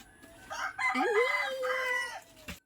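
A rooster crows once in a garden in Palawan, a long rising-then-falling call, fairly close and clear over a quiet background.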